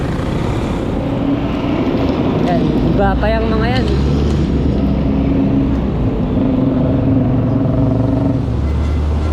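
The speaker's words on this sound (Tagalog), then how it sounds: "sasakyan ng nakakadaan" Traffic rolls along the NLEX-SLEX connector road construction area, a continuous low rumble of passing vehicles while someone talks over it, with a brief horn-like tone in the middle.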